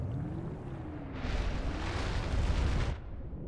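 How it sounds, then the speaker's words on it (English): A deep, rumbling explosion in the video game Planetside 2, a sustained roar of blast noise swelling up over a low droning engine hum and lasting a couple of seconds before cutting off. "Something's exploding."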